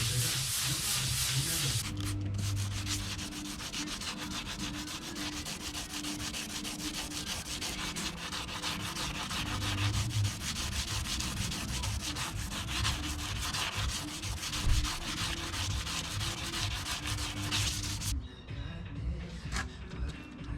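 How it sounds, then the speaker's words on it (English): Wet sanding a gel coat patch repair on a Yamaha 212SS boat produces a steady, close abrasive rubbing that runs continuously, with brief pauses between strokes, before it drops away near the end. "that wet sanding will keep kind of the gunk out of the sandpaper"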